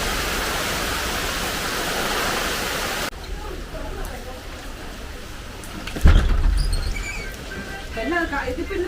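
Rain beats on a plastic sheet as a dense, steady roar for about three seconds, then thins to a softer, scattered patter with a sudden thump and faint background voices.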